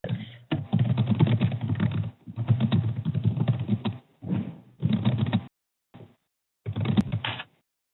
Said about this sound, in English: No, I'm typing it.